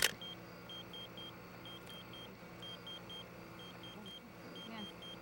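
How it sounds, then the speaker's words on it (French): A small electronic pager beeps repeatedly in short high-pitched bursts, grouped in quick clusters over a low hum, fairly faint and steady. "Le silence du désert venait d'être brisé par la sonnerie d'un téléavertisseur."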